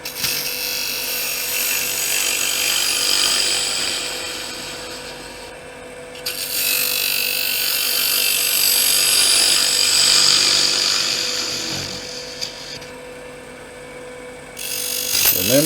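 A small gouge cuts into a tiny endgrain wood bowl spinning on a lathe, a loud continuous scraping and rubbing hiss with brief pauses between cuts, alone and up close.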